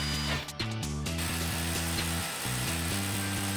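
A power drill drives screws into a floor in repeated bursts, its motor pitch stepping up and down with short pauses, close and steady with no voices.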